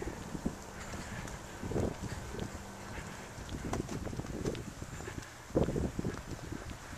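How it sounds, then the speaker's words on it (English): Outdoor wind buffets the microphone with low rumbling gusts that come and go. Faint rustling and scattered footstep-like knocks sit underneath, and no one speaks. "There's a little bit of a wind, which will sound worse on the microphone than it does"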